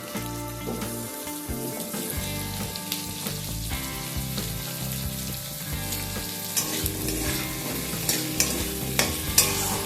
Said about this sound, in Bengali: এবার আলু আর পেঁয়াজটাকে অল্প কিছুক্ষণ একটু ভেজে নেব।